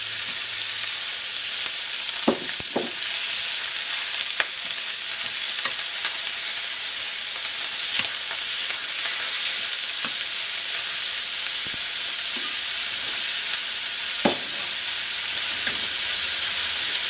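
About a pound of lean ground beef sizzles steadily in a hot pan for a Mediterranean casserole, a continuous bright frying hiss broken by occasional scraping knocks as the meat is stirred and broken up.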